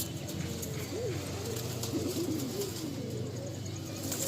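Malwai pigeons cooing in a loft, soft low rolling coos rising now and then over a steady background hum, with no voices.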